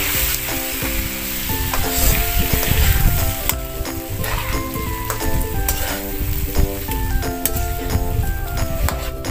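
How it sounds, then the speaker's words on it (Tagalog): Tiger prawns sizzle loudly in hot garlic butter in a pan, a steady crackling fry with occasional clinks and stirring, close and continuous, with background music playing. "Ilagay na natin ang ating tiger prawn sa ating butter,"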